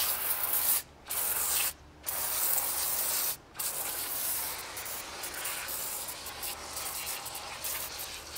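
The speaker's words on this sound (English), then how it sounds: "when you spray it onto the tires," Repeated hissing sprays from a pump bottle of tire cleaner onto car tires, three short bursts separated by brief gaps, then a longer continuous mist fading slightly.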